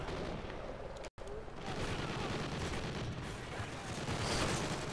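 Dense, continuous gunfire fills a video game match in Drop Zone mode, a loud, sustained crackle of shots with one brief gap of silence near the start.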